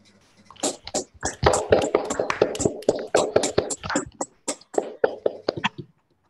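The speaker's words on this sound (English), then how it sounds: "Can we please have a round of applause for Professor Yao's lecture?" Scattered, uneven clapping from a small lecture audience after a talk on black hole theory, moderately loud and close, with a few murmured voices mixed in before it fades out.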